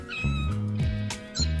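A cat meows in the video game No More Heroes, two or three close, drawn-out tonal meows in quick succession over faint game background, no talking.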